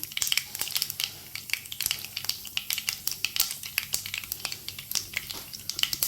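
Mustard and fenugreek seeds tempering in hot oil for a raw mango sweet curry, crackling and popping in dense, irregular bursts close by, with no talking.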